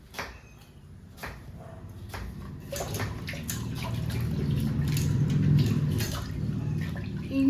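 Coriander and mint leaves being washed in water, a soft sloshing and splashing that grows gradually louder and steadier, with light drips near the start.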